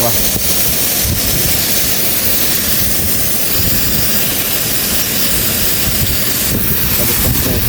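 An AC compressor motor runs continuously as a steady, loud broadband drone with a low mechanical rumble, with no breaks from start to finish.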